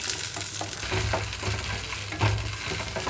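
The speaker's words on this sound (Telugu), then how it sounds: "ఆయిల్ హీట్ అయిన వెంటనే పచ్చిమిరపకాయలు కట్ చేసి వేసుకుంటున్నాను" Cut green chillies frying in hot oil in a pan, a continuous close sizzle with brief stirring scrapes and bursts, no voices.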